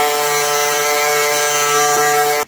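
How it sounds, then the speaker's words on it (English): Power saw cutting through a tongue and groove porch board, a loud, steady high-pitched whine running continuously before it cuts off sharply near the end. "So cut about a quarter inch away from the tongue side, going straight down"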